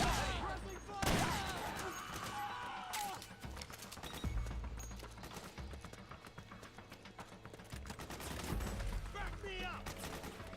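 Rapid gunfire bursts and shots crackle through a busy Metal Gear Solid battle scene, with bursts of automatic fire, clattering impacts and shouting voices layered together.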